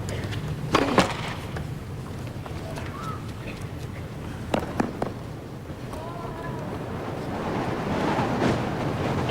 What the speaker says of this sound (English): Wow, that's a gust of wind.